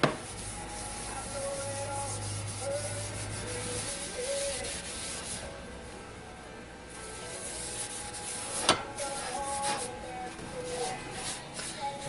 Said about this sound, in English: We're just going to get that rubbed over that whole entire pan.